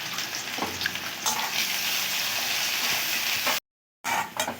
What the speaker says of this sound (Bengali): পেঁয়াজটাকে কিন্তু একদমই খুব ভালো করে লাল করে ভেজে নিতে হবে, একদমই লাল করে ভেজে নিচ্ছি।